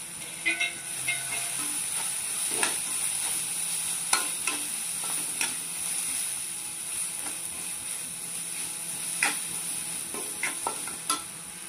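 Steady sizzling of spices frying in a pan for a chicken tava kebab, with occasional sharp scrapes and clinks of a stirring spoon over the continuous hiss, close and without talk.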